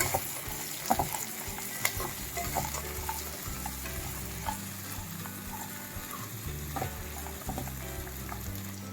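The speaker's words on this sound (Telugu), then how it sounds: "ఇప్పుడు మనం వేయించి పెక్క పెట్టుకున్న బంగాళదుంప క్యారెట్ జీడిపప్పులు అన్నీ వేయించేసుకోవాలి మొత్తం కలుపుకోవాలి" Potato, carrot and cashews fry in a pan for semiya upma, giving a continuous close sizzle under irregular scraping and clinking from a stirring spoon, with no talking.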